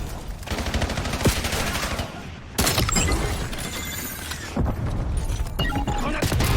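Rapid bursts of automatic gunfire crackle through a Call of Duty Black Ops 7 multiplayer match, with loud sustained volleys, sharp impacts and a heavy blast midway, over a continuous game soundscape.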